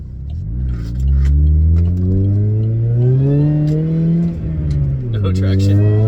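A 2007 Saturn Ion Redline with a ZZP S3 kit accelerates hard on a wet road. Loud, close engine revs rise and fall in pitch with each gear pull, and a voice talks over them.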